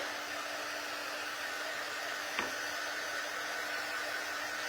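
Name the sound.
heat tool blowing to dry craft items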